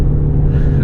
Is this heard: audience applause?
no